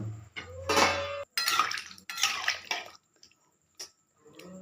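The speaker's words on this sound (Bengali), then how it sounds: "এবার আমি জল দিয়ে দেবো।" Water splashes into a hot pan of frying potatoes in short hissing, sizzling bursts, then a few clinks and drips, close by and fairly loud against near silence.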